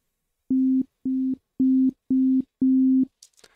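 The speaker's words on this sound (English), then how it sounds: "now you're hearing kind of a dull sine wave sound" Five evenly spaced, dull, pure electronic tones beep in a row, each lasting about a quarter second, followed by faint rustling.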